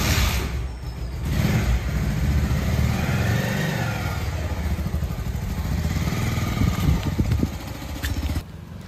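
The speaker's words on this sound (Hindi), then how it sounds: "ठीक है बाइक हम चलाते हैं" A motorbike rides along a road with a steady, loud engine drone and passing wind rush that holds for several seconds, with no talking over it.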